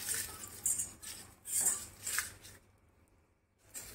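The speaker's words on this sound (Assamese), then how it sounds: "পূৰা ভাজিব লাগিব শুকানকৈ।" Black turmeric being dry roasted in a pan gives bursts of clinking and scraping from stirring, with short pauses between them and a brief quiet stretch near the end.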